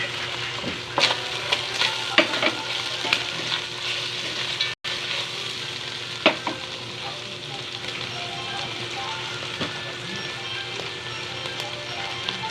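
Garlic and onion sizzle and crackle loudly in a pan for a Filipino soup, with continuous stirring and sharp scrapes and clicks throughout. One brief dropout breaks the steady frying.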